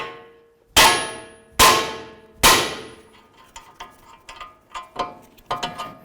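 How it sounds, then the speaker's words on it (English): A hammer strikes the steering knuckle of a 2006-10 Dodge Charger three times to free the outer tie rod end; loud ringing metallic clangs at a steady pace, followed by lighter clinks and rattles of tools. "Put that back on a couple threads, a couple loving bonks right on the knuckle."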